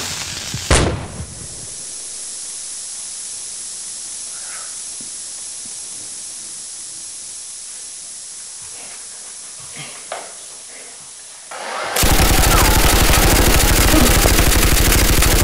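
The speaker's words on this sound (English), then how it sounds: "One smoke bomb coming up!" A smoke bomb set off during a Nerf battle bursts with a sharp pop and then hisses steadily for about eleven seconds before a louder, harsher rush of hissing spray takes over at the end.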